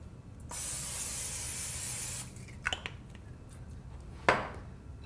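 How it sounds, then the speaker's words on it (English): Nonstick cooking spray hisses onto a pan in one steady burst of about two seconds, close and clear, followed by a few light clicks and a short sharp clatter of the can or pan. "We're going to spray it with nonstick spray so that the quesadillas don't stick."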